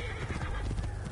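A horse in the Assassin's Creed Origins video game gives a sharp whinny over rapid clip-clopping hooves as it tramples a charioteer, a brief burst close to the listener with no talk over it.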